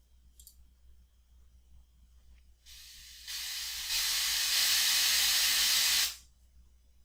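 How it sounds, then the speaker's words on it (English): Calibration noise for hearing aid real-ear measurement plays from speakers, a broadband hiss that enters after a few faint clicks, grows louder in steps, holds steady, then cuts off sharply. "When you click Start, you will hear the calibration noise."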